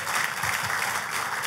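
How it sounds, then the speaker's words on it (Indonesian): Congregation applauding during a church worship service, steady dense clapping filling the room, moderately loud and continuous with no voices over it. "tepuk tangannya yang paling meriah buat Tuhan kita."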